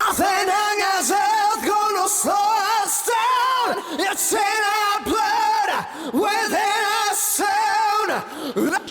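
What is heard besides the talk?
huge delay effect on rock song vocals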